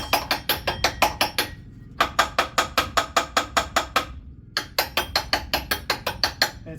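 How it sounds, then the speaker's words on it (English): A hammer taps repeatedly on a rusty engine pulley shaft in quick, sharp metallic bursts, three rapid runs of strikes separated by brief pauses, close and clear with no voices. "I was pulling on the pulley while I was tapping on the shaft"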